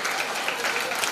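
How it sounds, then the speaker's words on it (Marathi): Steady applause from a crowd congratulating the winner of a Paithani game at a Navratri festival event, dense and even for its short length, with a voice over it. "टाळ्या वाजून या ताईंचं अभिनंदन करायचं आहे"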